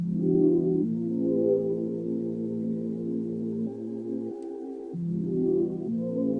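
Sustained keyboard chords hold and shift slowly, warm and steady, changing voicing a few times with no talking.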